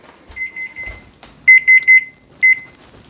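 A kitchen timer for baking bread beeps loudly in quick bursts of repeated high tones, two clusters of chirps followed by a shorter final burst, with faint handling noise between.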